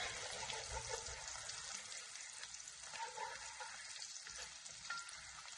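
Garlic frying in a pot over medium heat, a quiet, continuous close sizzle and crackle with no voices.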